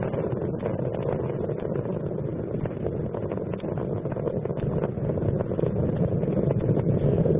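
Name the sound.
Space Shuttle Columbia launch, main engines roaring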